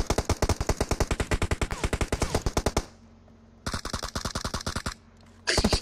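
Rapid automatic gunfire in a multiplayer shooter video game, loud bursts of evenly spaced shots broken by two short pauses before the firing resumes, with smoke in play.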